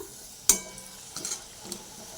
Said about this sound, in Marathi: या पूर्ण भाकरवाड्या इथे मी तळून घेणार आहेत आता